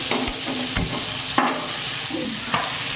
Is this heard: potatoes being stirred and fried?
yes